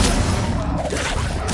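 Hogwarts Legacy's Expelliarmus spell lands as a brief loud magical blast, a dense crashing whoosh with a booming low end that rings out for a moment before fading.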